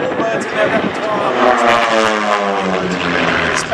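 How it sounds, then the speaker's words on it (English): A Cassutt Formula 1 air racing propeller aeroplane flies past at an airshow, its loud, steady engine drone shifting in pitch as it passes close by, with a commentator talking over it. "Richard Grace on the Cassett Racer, Formula 1 air racing aeroplane."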